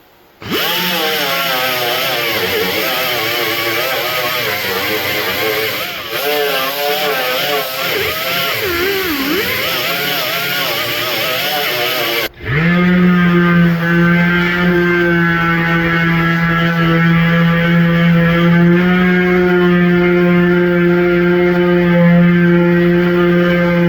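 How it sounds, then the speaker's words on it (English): A flap wheel on a grinder lightly sands welded sheet metal on a truck cab floor, a loud steady tonal whine that changes pitch midway and then holds a strong, even drone to the end. "Now I can take the flapper wheel. Now I can lightly sand everything and it should blend right in."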